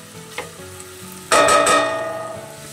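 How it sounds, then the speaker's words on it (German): Chopped onions and garlic sweating in a pan, with a soft clink of a utensil, then a sudden loud sizzle that slowly fades while stirring goes on. "Und auch gleich den Knoblauch. Ja, das jetzt ein bisschen anschwitzen,"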